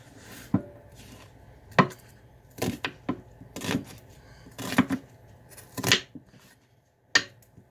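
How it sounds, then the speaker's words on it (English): Knife dicing an onion on a cutting board, a series of sharp, irregular chopping knocks, some single and some in quick pairs, close and clear without speech. "just nice size dicing"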